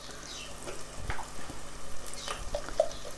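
Onions fry with a little salt in a pan for a Telangana-style chicken fry, a soft close sizzle broken by brief scraping stirs, with no voices.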